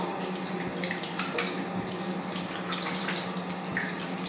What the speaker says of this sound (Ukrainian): Під проточною водою.